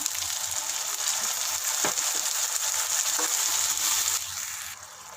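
Tomato paste bubbling and sizzling in a pot of Kerala-style fish curry, a loud close continuous hiss with small pops and a stir or two, easing off slightly at the end with no talking.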